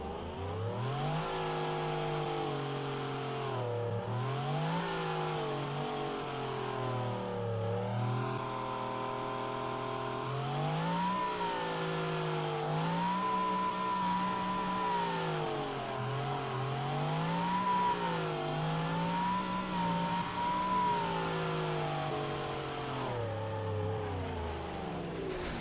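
A V16 drag car engine in BeamNG.drive revs up and down repeatedly, a loud continuous droning roar rising and falling in pitch in waves as the throttle is worked, with no voices.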